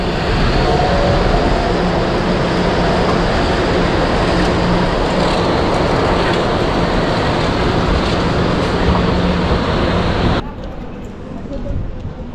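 A São Paulo metro train runs with a loud, steady rumbling roar throughout, heard from close by inside the station, before the noise drops off abruptly near the end.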